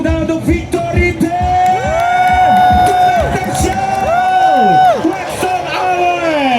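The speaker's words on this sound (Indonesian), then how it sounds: "boleh berikan tepuk tangan untuk Victory Team" Spectators at an F1 powerboat race, a sprint race, cheer and yell as a crowd, loud and continuous for several seconds, with an announcer's amplified voice sweeping over the noise.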